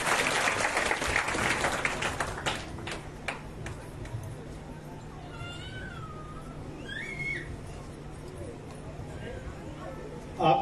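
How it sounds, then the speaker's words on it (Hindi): Audience applause at a Shrimad Bhagwat Katha religious discourse in Noida, a burst of clapping that fades into a steady murmur of the crowd, with voices talking over it. "जोरदार ताली बजाइए और उनका हौसला वर्धन कीजिए।"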